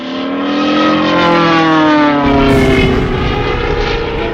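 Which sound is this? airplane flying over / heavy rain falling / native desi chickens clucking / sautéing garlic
airplane flying over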